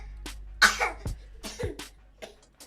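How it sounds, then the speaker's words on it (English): A child fakes a cough: several short, throaty bursts close by, with brief pauses between them and no talking. "show people you know how to fake cough too"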